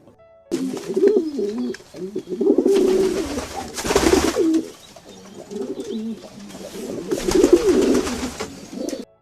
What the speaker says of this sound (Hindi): पिजन्स आके इतना शोर कर देते हैं